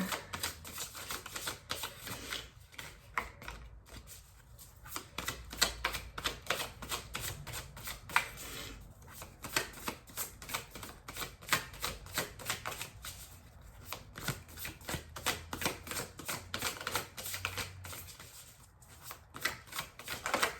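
Tarot cards being shuffled continuously, a dense rapid rippling of card edges riffling and sliding, close and fairly loud with short pauses, no voices.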